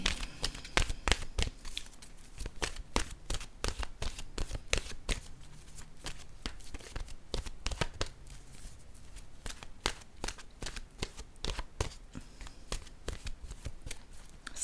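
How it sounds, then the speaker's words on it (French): A deck of oracle cards shuffled steadily by hand, a fast crisp riffle of flicking and slapping card edges repeating through the whole stretch, close and fairly quiet with no talk. "Je vais piger maintenant une carte de mon oracle de l'âme intuitive."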